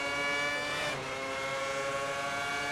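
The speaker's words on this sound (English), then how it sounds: "can hear his engine now right behind us, starting to roar" Ferrari Formula 1 car engine in the racing game F1 2010, a loud sustained high-pitched whine with dense harmonics, rising and shifting pitch around the one-second mark as it pulls close behind.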